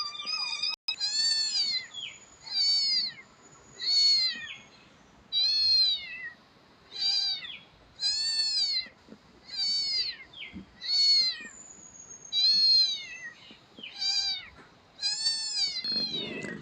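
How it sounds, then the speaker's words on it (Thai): A cat at a temple in Lampang meows over and over, about a dozen clear, fairly loud calls in a steady rhythm, each a second or so long with short pauses between, and no voices. "น้องเหมียวมานั่งเล่นกับหลวงปู่พักกลางวัน"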